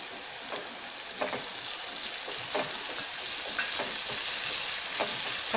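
Grated potato and beetroot frying with onions in a pan, a steady close hiss with intermittent stirring scrapes, building slightly louder toward the end.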